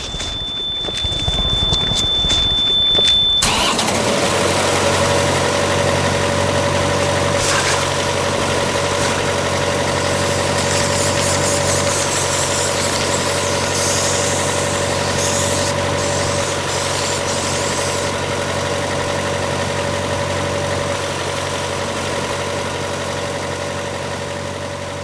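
A refrigerated rail car's engine idles in a rail yard, a steady droning hum that runs continuously and fairly loud for the whole stretch after a brief rustle at the start.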